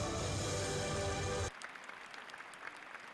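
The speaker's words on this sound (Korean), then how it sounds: "관람자들은 아낌없는 박수갈채를 보냈습니다" A large audience applauds a skating and gymnastics festival performance of spins and jumps, a dense, loud wash of clapping that cuts off abruptly halfway through, leaving faint room noise.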